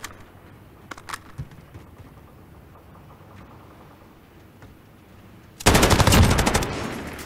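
Video game gunfire during a competitive grand final match: faint scattered shots at first, then a loud, rapid burst of automatic fire near the end.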